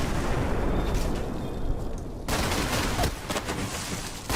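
Gunfire in the modded video game Fallout New Vegas, set in the Mojave National Preserve, comes as a dense, continuous barrage of rapid bursts and rumbling blasts, loud and unbroken with no talking.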